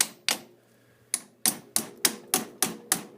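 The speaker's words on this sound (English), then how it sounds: "So all I'm going to do is take a hammer and just bang that down around all the sides." A hammer bangs down a part on a shock absorber body during spring removal, nine sharp metallic strikes, the first few spaced out and the rest in a quick steady rhythm, close and loud with no talk.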